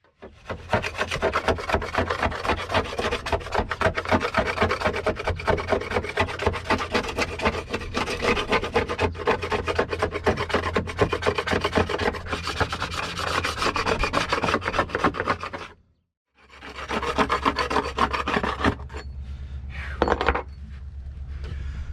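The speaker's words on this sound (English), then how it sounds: "So let's continue on with some scraping." Steady, loud rasping scrape of a hand tool working old sealant and grime off a boat's teak deck, continuous strokes with a brief pause near the end before scraping resumes.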